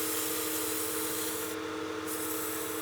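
Continuous dry rubbing hiss of sandpaper against a wooden spinning top turning on a lathe, steady and even, with a low motor hum underneath.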